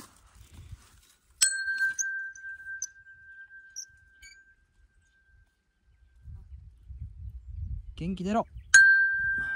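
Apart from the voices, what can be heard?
bell rung on a mountain trail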